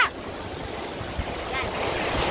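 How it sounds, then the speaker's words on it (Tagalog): Ocean surf at a rocky beach, Butas Butas Beach in Mauban, Quezon, with strong currents: a steady broadband wash of waves with gusty wind noise across the microphone, continuous and fairly loud. "Ang lakas ng agos. Naalon."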